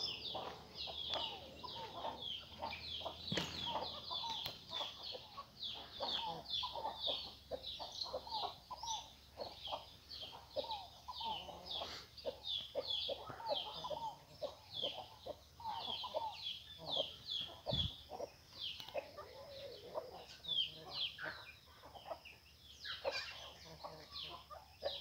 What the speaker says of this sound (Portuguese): Galinha tentando brigar com ele